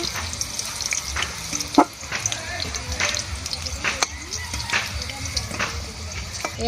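Cut potato and taro frying in oil in a pan, a continuous close sizzle with scattered crackles and occasional scraping stirs, no voices.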